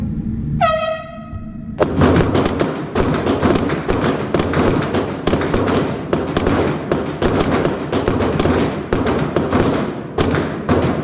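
Rapid pistol shots bang in a fast, dense string at an indoor shooting match, loud and echoing off the walls, after a shrill timer beep starts the string.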